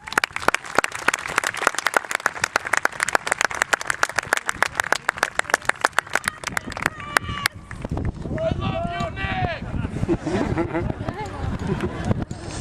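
Applause from a high school graduation audience in 2008, honoring the graduates' families: dense rapid clapping that fades out partway, after which talk and voices from the crowd take over.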